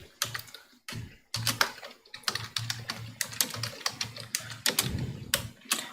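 Code is typed rapidly on a computer keyboard, with dense, close key clicks in uneven bursts and a brief pause.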